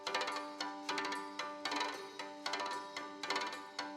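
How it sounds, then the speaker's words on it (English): Pencil bouncing off violin strings, giving repeated bright, rattling bursts with ringing string tones, about eight quick strikes in a loose rhythm, close and fairly quiet with no voices. "Alice bounces a pencil off the strings of her violin."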